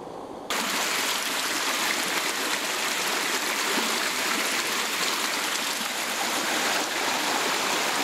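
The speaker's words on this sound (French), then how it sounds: "on va commencer par mouiller l'allumette" Running water pours steadily and loudly from a tap as a match is soaked for a survival test, a continuous close splashing stream after a brief quiet start.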